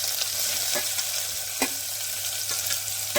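Finely chopped onion sizzles steadily in hot oil for tempering, a constant hiss broken by a few sharp crackles and pops.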